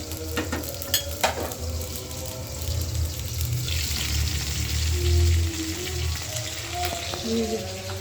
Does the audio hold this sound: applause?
no